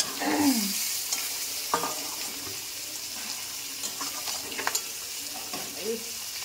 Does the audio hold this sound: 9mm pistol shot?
no